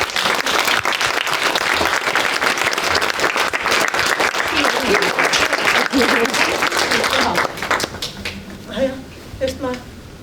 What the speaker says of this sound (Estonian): teha neile üks suur tänu ja aplaus